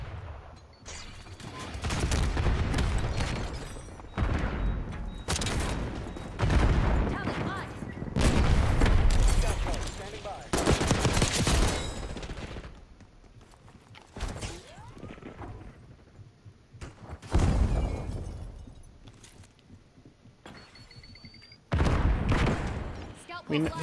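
Gunfire from the Tonto .22 (Thorn) in Call of Duty Black Ops 6, loud repeated bursts of rapid shots with crashes and booms in between, running through most of the stretch amid game action.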